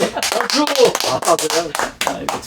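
Scattered audience clapping at a church leaders' press briefing comes in short, sharp bursts beneath a man's loud, close speech.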